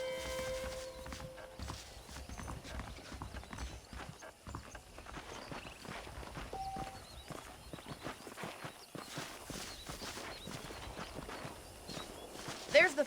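Horses walking in the Western video game Red Dead Redemption, a steady clip-clop of hooves with an occasional snort or whinny, heard under game voices and ambient sound.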